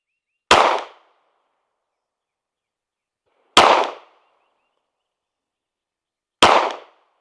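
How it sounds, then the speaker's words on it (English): Three sharp, loud pistol shots at a shooting range, evenly spaced about three seconds apart, each a crisp crack with a short decay and silence between. "3 well-aimed shots."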